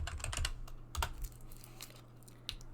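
Typing on a computer keyboard while entering a command for a school database lab: irregular clusters of close, crisp key clicks with brief pauses, loudest near the start and with a sharp tap near the end, no talk.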